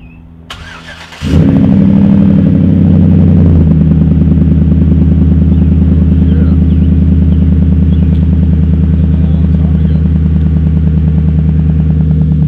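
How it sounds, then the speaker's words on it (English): A Chevrolet Silverado pickup fitted with a 5-inch straight-pipe exhaust cranks and fires up, then settles into a loud, deep, steady idle that rumbles close up and alone for the rest of the clip. "New 5-inch exhaust for the Silverado."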